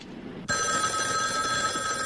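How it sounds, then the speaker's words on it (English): An old-style telephone bell in a horror film starts ringing abruptly and keeps up a continuous bright metallic ring, clear and close, with no talk over it. "I've tapped this phone so that when it rings, it'll ring at the station house, too"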